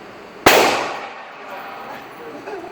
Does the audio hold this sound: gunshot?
yes